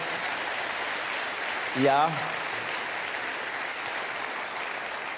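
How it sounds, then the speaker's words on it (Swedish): Applause from a conference audience in a hall, a diffuse steady wash of clapping throughout, with a short spoken interjection partway through. "Vi kan ge dem en stor applåd också."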